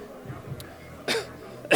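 A person coughs twice in quick succession, sharp and close, after a moment of quiet with faint throat noises.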